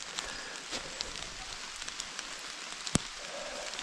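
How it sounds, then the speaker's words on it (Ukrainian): Steady rain patters across the canopy in a dense, even hiss, with a sharp single drop or tap cutting through near the end. "Але дощик нас проганяє."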